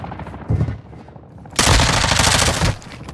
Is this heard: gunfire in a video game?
yes